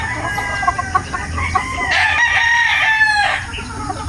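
Gamefowl roosters crow at a game farm in Batangas, several overlapping cock-a-doodle-doo calls rising over clucking and a low background hum, fairly close and loud.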